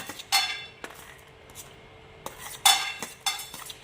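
Peanuts dropped into a pan for dry frying during home cooking: scattered sharp rattling clinks in bursts and single taps against metal, close and fairly loud, with quiet gaps between.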